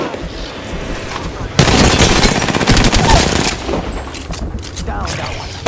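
Loud, rapid bursts of automatic gunfire and overlapping shots ring out in an Apex Legends match, swelling into a dense fusillade midway before easing into scattered shots.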